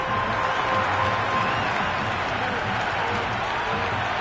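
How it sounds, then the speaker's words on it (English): Stadium crowd in a PS5 cricket video game roaring and cheering continuously, a dense raucous wash of many voices and applause filling the whole stretch at steady loudness. "The crowd are really getting quite raucous. It's going to be difficult to focus down in the middle with this amount of noise."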